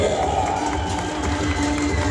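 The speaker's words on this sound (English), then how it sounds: "A big round of applause. Make some noise for Aaron" Fans at a badminton championship roar and cheer in a packed arena, a loud continuous wash of crowd noise with scattered shouts and clapping.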